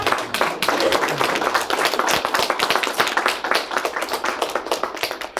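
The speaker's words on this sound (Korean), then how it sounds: "박수 안 칩니까?" An audience at a lecture on AI claps together in a dense, sustained burst of fast overlapping hand claps, loud and close throughout with no talking over it.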